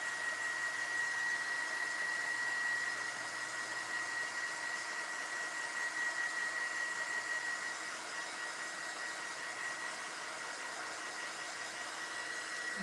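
Hair dryer blowing steadily on a small handmade miniature autumn decoration, a continuous close whirring rush with a thin high whine, slightly easing partway through, no voices.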